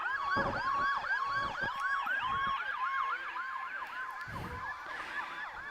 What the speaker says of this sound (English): That's an ambulance going by.